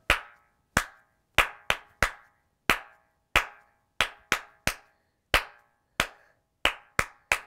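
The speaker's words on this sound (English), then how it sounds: "Five claps." Five sharp hand claps ring out alone, close and clear, at uneven intervals within a children's Bingo nursery rhyme, each one crisp with a short decay.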